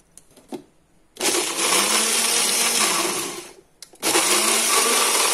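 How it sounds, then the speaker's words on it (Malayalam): An electric kitchen mixer grinds spiced sambar masala with water for a ripe-mango sambar, whirring loudly in a steady run of a few seconds, stopping briefly, then roaring back to full power. "കുറച്ച് വെള്ളവും കൂടെ ചേർത്ത് അങ്ങ് അരയ്ക്കാം"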